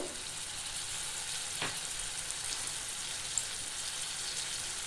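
Tomato, chilli and ground spices sizzle steadily in hot oil for egg tarka, a dense continuous frying hiss close by with a faint stir partway through and no talk.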